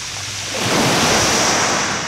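Surf rushes and washes over the smooth pebbles of a pebble beach, a steady, close roar that swells slightly midway, with no voices present.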